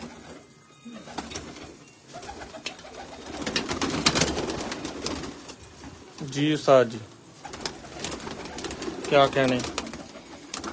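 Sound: pigeons cooing while being caught

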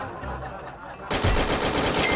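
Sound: gunfire from shooting in the video game Free Fire

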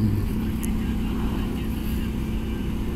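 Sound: motorcycle riding

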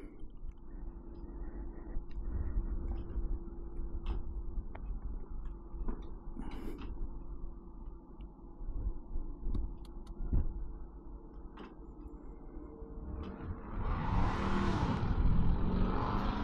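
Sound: Honda ADV160 scooter engine starting and revving

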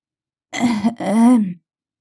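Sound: elderly woman coughing

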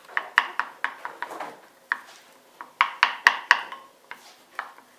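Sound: stirring strained yogurt with garlic in a bowl

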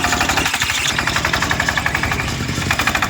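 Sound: power tiller engine running

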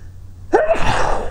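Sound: sneeze

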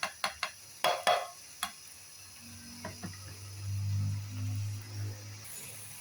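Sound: stirring gram flour into buttermilk in a pot

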